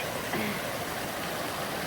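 A stream flows beside a mushroom-picking spot, a continuous broadband rush of water that stays even and close throughout, with no talking heard.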